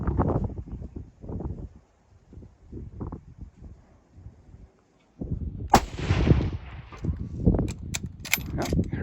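A single sharp, loud gunshot from an American-made Enfield rifle rings out outdoors, following stretches of talk and wind noise, with voices continuing afterward.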